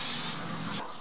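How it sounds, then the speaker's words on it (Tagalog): Insect repellent sprayed against mosquitoes: one short aerosol hiss up close, with a second brief puff near the end, alone without talk. "Mag-spray na siya agad."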